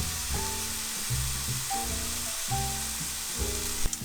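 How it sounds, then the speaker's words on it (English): Kale sautéing in a pan with lime juice gives a steady close sizzle and fry hiss throughout, with brief stirring noises and a sharper clatter near the end. "So by sauteing it, the kale is going to get more tender, it's going to get less bitter"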